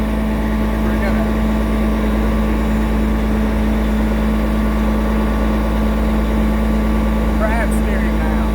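A Caterpillar RM300 rotary mixer's heavy diesel engine drones steadily and loudly throughout while the machine crab steers slowly, moving laterally, with no clear speech over the continuous low rumble.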